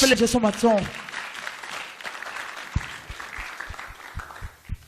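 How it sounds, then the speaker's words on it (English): An audience at an all-night prayer conference claps steadily as a voice sings or calls out briefly at the start, with scattered louder claps continuing underneath. "Let's clap for Jesus Christ."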